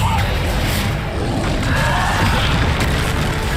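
A heavy spell impact in Hogwarts Legacy as Descender slams an enemy to the ground, a loud, booming thud with rumbling low end and a crash-like burst amid combat noise.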